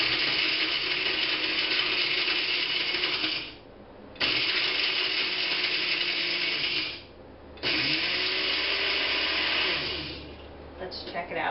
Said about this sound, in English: first chop the ice in a blender until there are no big chunks